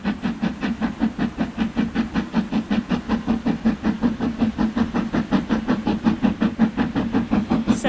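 A seven-carriage train near the Glenfinnan Viaduct rolls steadily along the rails with a fast, regular rhythmic clatter and a low rumbling hum, loud and close throughout.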